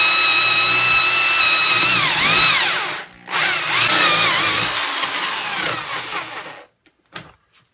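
Power drill with a Forstner bit boring through a wooden cutting board, loud whining close-up with pitch sagging under load, a brief pause, then more drilling that winds down and stops.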